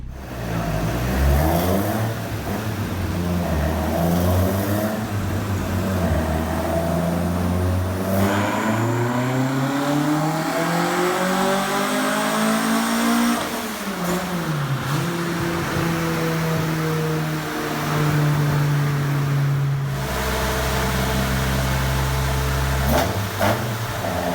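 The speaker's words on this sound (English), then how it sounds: "So I'll actually insert some 16 valve noises on the dyno now." A tuned Mk2 16-valve engine revs hard on a dyno, climbing through sustained loud rising pulls, then dropping back and holding steady drones. It is close and constant, with no talk.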